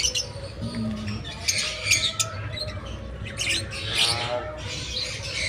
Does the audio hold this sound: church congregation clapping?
no